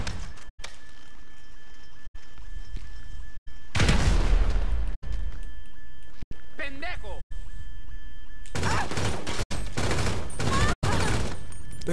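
GTA 5 gunfire as noisy bursts of shots and booms in two clusters, loud and close. Voices and game sounds are heard in between.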